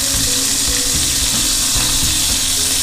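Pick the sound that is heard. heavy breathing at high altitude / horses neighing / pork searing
pork searing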